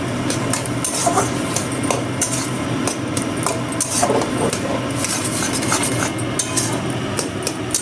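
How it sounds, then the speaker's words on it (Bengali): A spoon scrapes and clinks against a pan while cauliflower filling for stuffed gobi paratha is stirred until dry, producing constant busy rasping and metallic knocks close up. "এবারে ভালো করে নাড়াচাড়া করতে হবে, শুকনো শুকনো করে দিচ্ছি"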